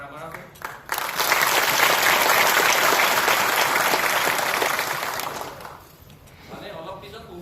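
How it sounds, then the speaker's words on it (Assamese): A university audience at a farewell gathering bursts into loud, sustained applause close by, swelling for about four seconds before fading, with a voice speaking just before and after. "চাওঁ কেনেকৈ হাত চাপৰি মাৰিব পৰা চাওঁ কিমান জোৰে মাৰা"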